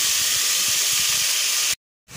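Mutton pieces fry in hot oil with a steady, bright hiss that runs loud and close for nearly two seconds, cuts out abruptly, then starts to return.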